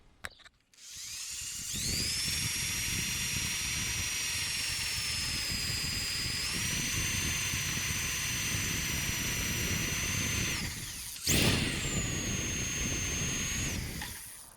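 Harbor Freight spot weld drill bit cutting out welds on brackets in an Integra engine bay, a steady high-pitched drilling whine held for about nine seconds, briefly stopping, then resuming close and loud.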